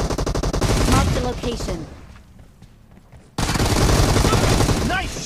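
Rapid bursts of automatic gunfire in the PUBG Mobile battle royale game crackle loudly and close, pause briefly, then resume in dense volleys, with someone talking over the shooting.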